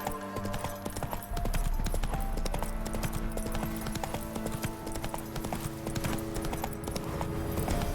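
Roach, a horse in The Witcher 3, galloping with rapid, rhythmic hoof clip-clops that carry steadily through the clip at a moderate distance.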